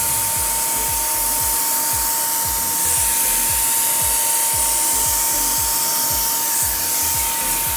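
Paint sprayer running steadily while coating a piece of furniture, a loud continuous hissing spray with a rhythmic low pulsing from the sprayer motor throughout, with no talking.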